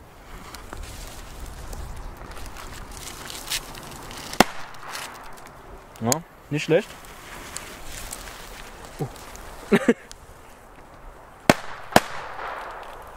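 Homemade firecrackers, taped-up bangers, go off outdoors in a few sharp, separate cracks spread across the stretch, each a loud isolated bang over quiet background, with a brief spoken comment from a man.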